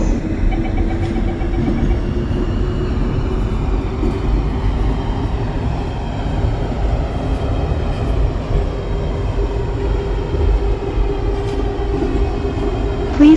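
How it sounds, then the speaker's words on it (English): An airport transit train at Westwood International Airport pulls away and runs on, its steady, close rumble and rolling rail noise filling the whole stretch without a break. "hold on, this train is departing"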